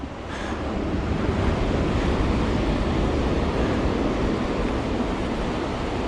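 Ocean surf rolls steadily onto the sand at Laguna Beach at low tide, a continuous loud wash of breaking waves with wind rumble across the microphone, no voices.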